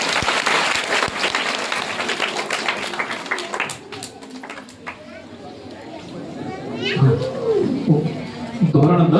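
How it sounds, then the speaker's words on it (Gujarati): A crowd claps for schoolchildren at a school admission festival, with dense applause at first that thins out, while a voice speaks over the clapping toward the end. "આપણે જોરદાર તાળીઓથી વધાવીશું"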